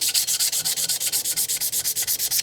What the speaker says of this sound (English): you can just use some probably about like 180 grit, 220 grit sandpaper